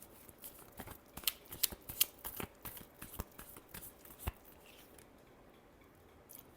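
Tarot cards being shuffled by hand, a quiet run of crisp riffling snaps and slaps in an irregular rhythm that thins out and stops toward the end, close and alone.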